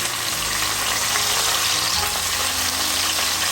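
Paprika-coated chicken pieces for a creamy tomato artichoke dish sizzle and fry in a hot pan, a loud, continuous crackle with a low hum beneath it and no talking.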